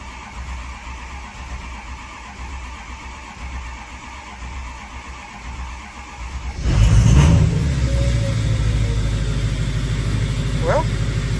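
A Ford 6.0 Powerstroke diesel pickup engine cranks and then catches, starting with a low rumble, a loud bursting startup partway through, and settling into a steady deep idle up close.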